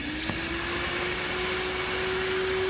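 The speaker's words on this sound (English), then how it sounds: "our shop vac, we're going to use this to pull all the air out nice and quick" A shop vac draws air out of a vacuum bag for veneering a table top, a loud, steady whooshing roar with a sustained whine that holds throughout.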